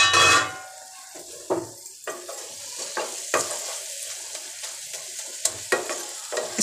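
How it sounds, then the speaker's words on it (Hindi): A spatula presses and stirs tomatoes with whole spices in a sizzling frying pan, a series of close scraping strokes and clicks over a steady low sizzle, with no talking. "स्पैचुला की मदद से हम हल्का हल्का टमाटर को इस तरह से प्रेस करके"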